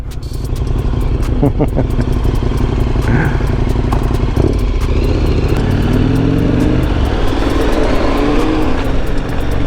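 A KTM 1290 motorcycle revs and pulls away close and loud, its engine note climbing through a gear change on a touring ride in Lower Silesia. Some speech is mixed in beneath the engine.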